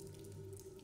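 A constant, quiet trickling water loop from the video game Remnant, running steadily like a faucet filling a sink, faint and unbroken.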